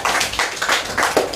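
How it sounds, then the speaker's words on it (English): Audience at a live spelling bee broadcast gives the young spellers a round of applause, brisk clapping in uneven bursts that stays close and loud for just over a second. "Can you please give them a round of applause?"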